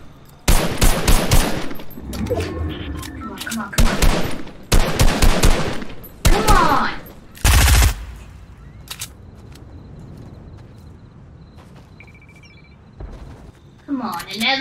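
Gunfire in a Fortnite solo battle royale on PC, heard as several sharp, loud bursts of rapid shots separated by pauses, mixed with game effects while someone talks excitedly over the action.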